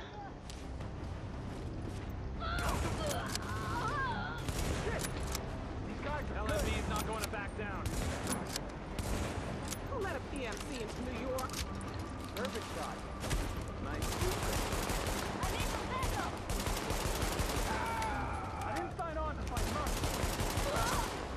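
Dense bursts of automatic gunfire in the video game Tom Clancy's The Division, at Grand Central Station, with rapid volleys and explosions throughout, mixed with game effects and a person talking over the action.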